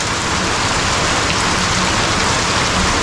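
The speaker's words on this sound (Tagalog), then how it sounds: "Grabe yung ulan" Heavy rain pours down steadily outdoors, a dense continuous hiss and patter on surfaces that stays loud and unbroken throughout.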